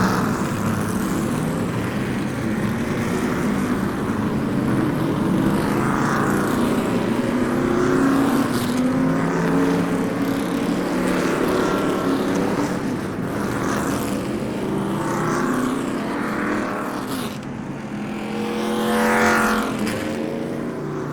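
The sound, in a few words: street stock race cars rolling onto the track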